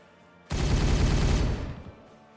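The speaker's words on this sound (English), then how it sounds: "Firing on target." A sustained burst of rapid gunfire from the Warhammer 40K Regicide video game, a dense loud volley lasting about a second before tapering off into a short fading tail.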